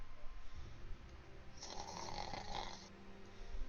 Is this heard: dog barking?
no